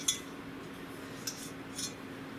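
Light metallic clinks as a saucepan is picked up in a home kitchen, a few brief, faint knocks and chinks spaced apart over a quiet background.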